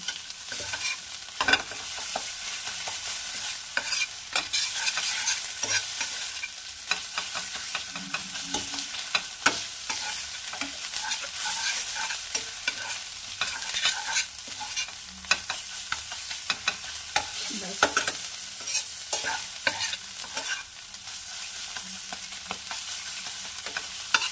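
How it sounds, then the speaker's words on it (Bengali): Mustard flowers fry in a pan while a spatula stirs them steadily. A continuous bright sizzle of hot oil runs throughout, with frequent close scraping and clinking strokes and no talking. "ভাজা ভাজা করে নিয়েছি"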